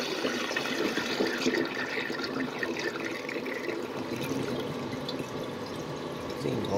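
A miniature 1994 Kohler Highcliff toilet flushes in a close, continuous gush and swirl of water that carries through the whole stretch without talk.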